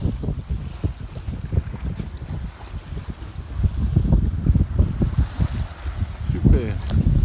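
A sailboat runs downwind along the island of Leros in a 12 to 15 knot breeze with little swell, steady wind buffeting the microphone over low rumbling water and hull noise throughout.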